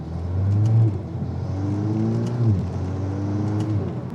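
An MK8 Golf R accelerates hard, its engine note climbing through gears with a quick shift dip midway, loud and close, with no voices.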